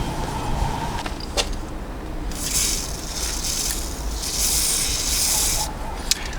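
Penetrating fluid sprayed from an aerosol can onto a turbo water pump switch on a MK2 Golf Diesel, two hissing bursts of a few seconds each over faint background rumble and a couple of light clicks, no talking.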